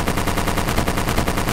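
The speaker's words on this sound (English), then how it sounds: "I'm shooting the box." Rapid automatic gunfire in the Arma 3 Exile mod, a dense unbroken burst of shots that is loud and close, with no voices heard.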